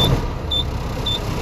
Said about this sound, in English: Now I'm going to start my truck and build my air pressure.